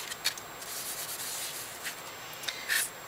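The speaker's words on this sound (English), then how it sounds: "I'm going to use my embossing buddy on my white cardstock." An embossing buddy rubbed over white cardstock makes soft, dry brushing strokes, faint and close, with a few brief sharper scuffs and no voices.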